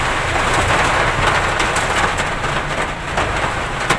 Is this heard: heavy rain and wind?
yes